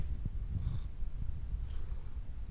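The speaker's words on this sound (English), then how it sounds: "Playing with the cat." A cat purring close by in a home garage on a rainy day: a steady, low, rumbling purr running continuously, with no talking.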